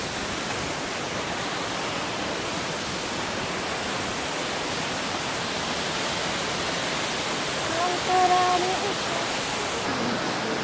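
The Ban Gioc waterfall, a large cascade on the Vietnam border, roars as a constant broadband rush of falling water, steady and enveloping throughout, with faint voices briefly under it.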